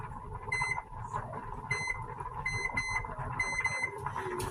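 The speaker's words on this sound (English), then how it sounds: "Okay, so potatoes are cooking. I'm going to set the timer." A kitchen timer being set while potatoes cook gives short, bright electronic beeps in quick clusters, several runs repeating over a low background hum in a home kitchen.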